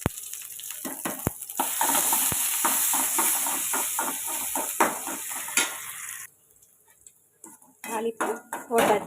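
Mustard seeds and onion frying in oil for a Tamil-style tempering, a bright steady sizzle with sharp crackles and pan and utensil clatters, fading briefly before more stirring clinks.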